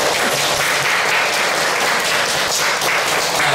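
Loud, sustained applause from an audience at a middle-school reading and debate competition, dense steady clapping throughout with no voices.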